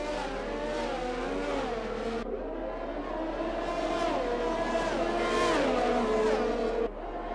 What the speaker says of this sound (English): that was a heavy spin there for the Ferrari of Luigi Sven